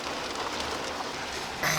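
Steady light rain patters and hisses evenly throughout, with no voices, ending in a brief brighter burst of noise.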